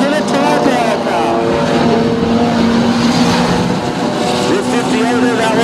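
Standard saloon race cars at Redline Raceway roar down the back straight in a heat race, a loud sustained engine drone with rising and falling harmonic tones from several cars, continuous for the whole stretch.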